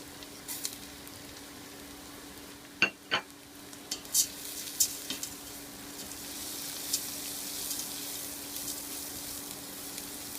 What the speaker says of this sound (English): Now, I'm going to put in the rice.